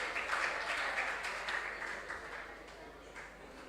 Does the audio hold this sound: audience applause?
yes